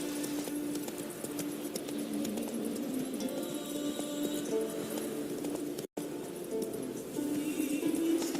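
Hooves of Roach, a horse in The Witcher 3: Wild Hunt, clip-clop at a steady walking rhythm, close and moderately loud over a continuous ambient bed, with a brief dropout near the end.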